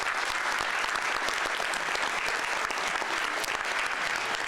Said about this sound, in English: Let's give our candidates a round of applause, please.